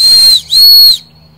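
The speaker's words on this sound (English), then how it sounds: "It's an emergency whistle." A survival emergency whistle sounds two loud, piercing shrill blasts close up, the first slightly shorter, separated by a brief gap and ending abruptly.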